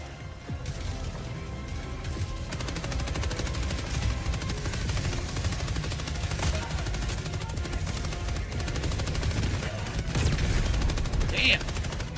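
Dense, continuous game gunfire and explosive rocket launches in the co-op shooter Helldivers 2, loud and sustained with heavy low rumble and bursts of automatic fire, with voices faintly mixed in.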